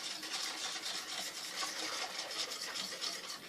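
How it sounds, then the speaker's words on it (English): A whisk stirs pudding mix into milk in a bowl, a continuous close scraping, swishing rasp with a quick even rhythm. "So stir together using a whisk until you have no clumps left."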